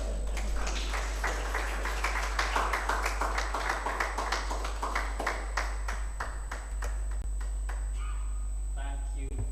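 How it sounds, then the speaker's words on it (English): Audience applause at a round table discussion on male engagement at Makerere University, a steady, moderately close patter of clapping hands that fades out near the end over a constant electrical hum. "Please give him another applause."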